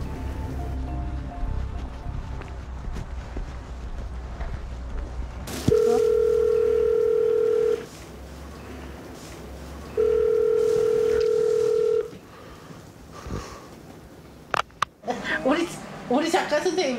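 Telephone dial tone heard while placing a call, two steady loud tones each lasting about two seconds with a pause between, followed by clicks, with people talking before and after.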